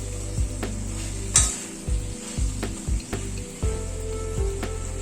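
Pointed gourd curry with poppy seed and yogurt being stirred in a pan after a splash of raw oil and slit green chillies, a soft sizzle under repeated scraping knocks of a spatula, no voices.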